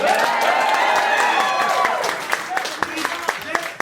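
Audience applause and crowd noise at a concert, a loud wash of clapping with voices over it that drops after two seconds to sparse, separate claps.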